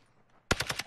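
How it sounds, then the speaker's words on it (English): Rapid burst of video game gunfire, several quick sharp shots in a row from a sniper in an online shooter, loud and close after a brief quiet moment. "Oh shit, I get sniped at."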